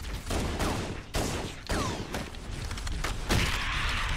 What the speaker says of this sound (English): It's the ship shooting